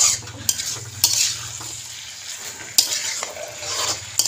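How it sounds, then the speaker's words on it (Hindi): Ginger and garlic frying in a pan give a steady sizzle, broken by several sharp scrapes and clinks as a spoon stirs against the metal, close and without talking. "इसे लगा के 2 मिनट तक पाके देबो आदि और रसुन के"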